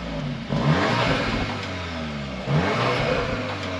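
A Cupra all-wheel-drive car's engine revs twice in quick succession, each a muffled, subdued rising growl heard close up over a steady engine drone.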